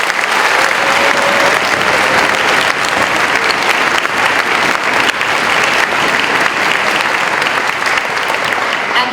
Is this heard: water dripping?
no